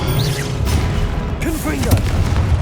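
A Confringo fire spell from Hogwarts Legacy explodes in heavy booming bursts over a dense, constant rumble, with short voiced cries mixed into the roar.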